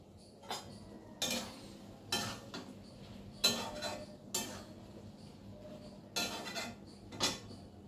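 Spatula scraping and clinking in a cooking pan as a Bengali stalk chorchori with hilsa fish head and a splash of raw mustard oil is stirred, several short scraping strokes in an irregular rhythm, close and moderately loud with no talking.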